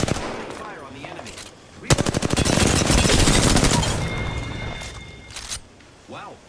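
Automatic weapon fire in the shooter game Apex Legends: scattered shots, then one sustained rapid burst lasting a few seconds, followed by fainter shots. Game voices sound faintly at times.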